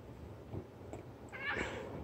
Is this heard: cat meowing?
yes